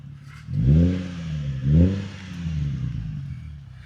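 Nissan 350Z fitted with a touring exhaust revs twice in quick succession, each throttle blip rising and falling, followed by a steady idle burble, close and moderately loud.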